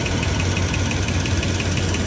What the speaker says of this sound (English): I have some videos that I'll put in here of the engine ticking